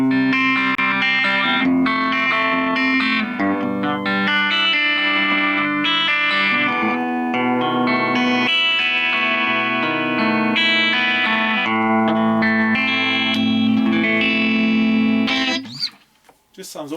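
Finger-picked electric guitar played through a Vox Cambridge 15 practice amp with treble and bass set about midway, warm and full, with ringing plucked notes and chords heard alone for about fifteen seconds before fading out.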